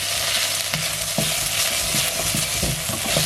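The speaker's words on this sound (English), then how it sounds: "Now this is meant to be stir fried for another 2 minutes, 1 to 2 minutes." Cod curry stir-fried in a pot gives a loud, continuous sizzle with scattered clicks and knocks of a spoon stirring against the metal.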